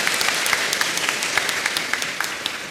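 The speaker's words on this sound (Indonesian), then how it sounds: "Tepuk tangan bagi Krismawan-Krismawati kita semua." A church congregation at a confirmation celebration applauds the confirmation candidates, producing a moderate wash of clapping with scattered sharper individual claps standing out, heard alone without speech.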